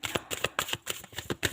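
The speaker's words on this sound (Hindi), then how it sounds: "1 कार्ड और लेते हैं" Tarot cards riffled and drawn from the deck in quick, close bursts of papery flutter, several rapid shuffles repeating through the moment with no voice present.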